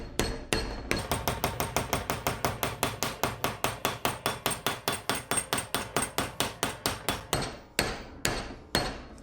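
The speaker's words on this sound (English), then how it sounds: "This is a fucking bench vise from Canadian Tire and a hammer." A hammer strikes quarter-inch steel plate clamped in a bench vise, ringing metallic blows in a rapid, steady series of about thirty, then a short pause before a few final hits, close and with no talking.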